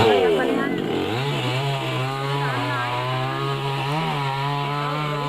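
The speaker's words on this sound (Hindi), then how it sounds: "हरे भरे पेड़ों को किस तरीके से आरी से काटा जा रहा है अपने निजी फायदों के लिए" A saw cuts through green, leafy trees with a steady, sustained engine-like drone that holds for several seconds after a brief voice at the start.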